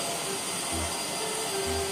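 A vacuum cleaner runs steadily on carpet, a loud, even broadband whoosh with a faint low rumble pulsing underneath, with no voices present.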